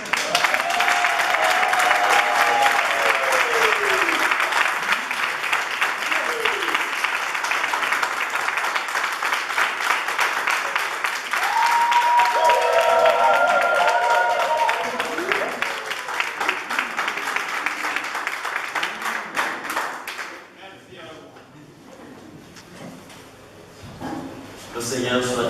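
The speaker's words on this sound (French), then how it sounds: "Donc nous vous applaudissons." A crowd at an academic year closing Mass applauds loudly and steadily for about twenty seconds while voices talk and call out over the clapping, which then drops away into quieter talk.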